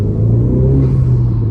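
Honda Civic FK8 Type R engine with a Mishimoto intake, a loud, steady low rumble with a rising drone as it pulls under throttle, close and alone with no talking.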